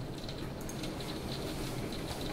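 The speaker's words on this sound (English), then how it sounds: "Oh no, it's raining really hard outside." Heavy rain pouring outside, a dense, steady hiss of drops with scattered patters, continuous and fairly faint, with no voices.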